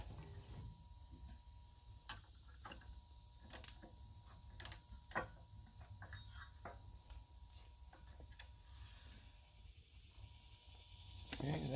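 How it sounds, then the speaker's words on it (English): A socket tightening the clutch hub nut on a Coleman go kart, heard as faint, close ratcheting clicks and small mechanical ticks over a quiet background hum. "Go ahead and get a socket, tighten it up."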